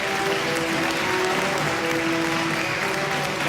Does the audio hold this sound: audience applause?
yes